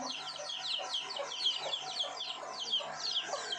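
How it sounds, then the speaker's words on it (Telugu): Several chickens at a rural home cluck and chatter continuously, close by and fairly loud, with no voices over them. "చూడండి మా అమ్మమ్మ వాళ్ళ ఇంటికాడ కోళ్ళు"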